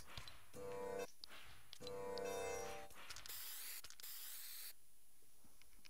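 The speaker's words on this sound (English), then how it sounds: "The kid Leroy was here in the kid Leroy's tag spray." Hissing bursts of a spray tag being applied in Fortnite, two or three short aerosol blasts over busy background game sound, with no speech.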